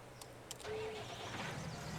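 A tractor engine in the farming video game Farming Simulator 19 starts up and settles into a mid-pitched idle, faint under a low background hum, with a few short clicks just before it catches.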